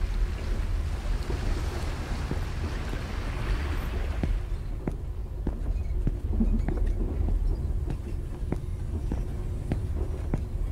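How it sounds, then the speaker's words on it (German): Sea waves wash and surge in a steady, continuous roar from a video game's seaside setting, with a windy hiss behind them and no voices. "Ist das Wald? Nee, das ist Meer."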